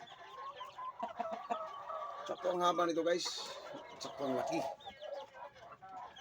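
Chickens cluck and chatter nearby in short bursts while someone talks over them.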